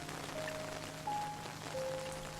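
Steady rain falls continuously in an outdoor scene, a dense even patter with faint tonal notes drifting over it, no voices.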